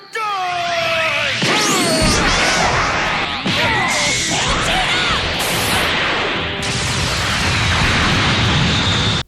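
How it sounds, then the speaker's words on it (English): Recoome's Eraser Gun from Dragon Ball Z, a sustained, roaring energy blast with crashing, explosive bursts and swooping tones that fills the whole stretch at high volume, with dramatic voices mixed in. "Recoome! Eraser gun!"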